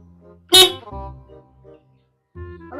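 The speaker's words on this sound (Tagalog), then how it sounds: "Pag pumapreno, bumubusina." A vehicle horn honks once in a short, loud blast as the brakes are applied. It is followed by low mechanical rumbling and a brief pause, then more engine noise.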